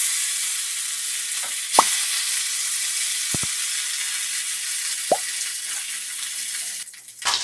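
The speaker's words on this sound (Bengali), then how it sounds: "তেল গরম হয়ে গেছে, এবার আমি দিয়ে দেবো মাছ।" Fish dropped into hot mustard oil in a wok fries with a steady broadband sizzle throughout, broken by a few brief pops and spatters, with no talking.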